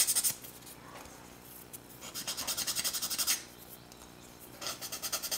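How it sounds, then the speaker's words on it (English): Quick rhythmic rasping strokes of a sanding stick on a small hard plastic scale model part, coming in bursts with brief pauses between them, close and fairly quiet. "Just get your sanding stick."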